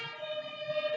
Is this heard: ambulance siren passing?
yes